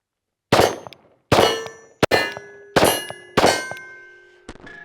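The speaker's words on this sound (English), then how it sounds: "So first rounds out of Glock 48, we're shooting 115 grain, white box Winchester." A Glock 48 pistol fires 115 grain Winchester white box rounds, five sharp close-range reports at an uneven pace, each followed by a short metallic ringing decay and a fainter clink near the end.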